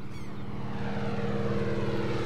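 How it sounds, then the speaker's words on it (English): A small propeller-driven seaplane flies overhead with a steady droning engine hum and buzzing propeller, loud and continuous, with a brief fading whine at the start. "He flew little seaplanes, and he would give people tours of Sao Paulo."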